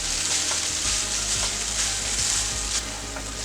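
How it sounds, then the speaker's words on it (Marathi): Vermicelli with grated fresh coconut is sautéed in a pan for upma. A soft, steady sizzle runs throughout, with faint scraping and stirring taps, and no voices. "शेवया चांगल्या परतून घ्यायच्या आहेत।"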